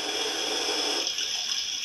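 A MamaRoo baby swing's built-in waves sound setting plays a steady, soft hiss of synthetic surf through its small speaker, continuous and even with no voices.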